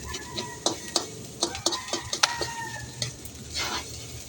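Garlic fried rice stir-fried in a pan, with quick rhythmic scrapes and clinks of a utensil against the metal over a soft, steady sizzle.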